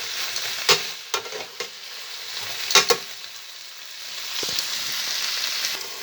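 A veal roast sizzles steadily as it browns in a frying pan, a continuous hiss punctuated by a few sharp spits and pops, close and moderately loud with no talking.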